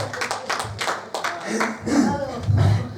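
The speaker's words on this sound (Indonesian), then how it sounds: "Tepuk tangan untuk semuanya." A group claps hands in a sales communication training session, a short burst of claps mixed with voices talking over and after it.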